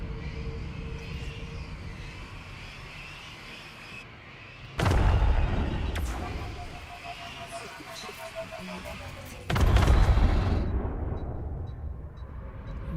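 Heavy ship guns boom in the Elite Dangerous space game, two big broadband blasts a few seconds apart over a constant engine rumble and hum.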